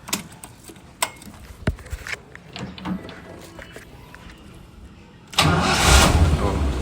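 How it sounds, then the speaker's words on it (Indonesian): A 1970 Toyota FJ40 Hardtop: a few clicks and key jingles, then the engine cranks and catches at once, settling into a loud, steady idle close by. "Sekarang kita lihat, dengar suaranya mesinnya."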